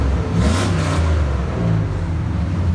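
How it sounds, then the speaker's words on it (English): Engine of a 2000 GMC Sierra pickup with a swapped Y pipe, revving briefly with a deep, throaty low rumble that swells and settles back to a steady idle, close by, no speech. "Give her a little bit of a rev."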